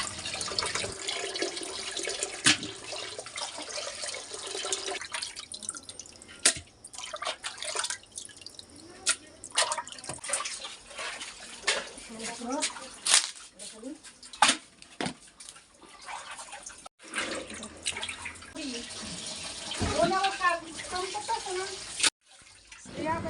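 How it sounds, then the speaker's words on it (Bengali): Chopped meat and liver pieces are washed under a running tap for Eid cooking in a village home, with continuous flowing water, dripping and splashing, and occasional voices over it. "এখন খুব ভালো করে ধুয়ে নেবো"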